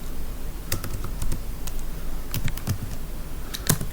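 Code being typed on a computer keyboard, a close run of quick, irregular key clicks with short pauses and a few louder taps.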